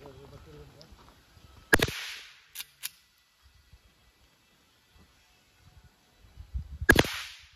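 Two loud, sharp gunshots ring out several seconds apart outdoors at a gun club shooting range, with a few fainter pops in between and soft background sounds.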